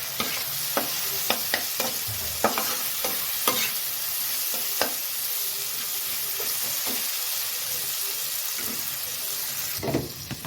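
Chopped green chillies fry in a pan of oil for a chital fish-bone chorchori, a constant hissing sizzle punctuated by repeated clicks and scrapes of a spatula, close and steady.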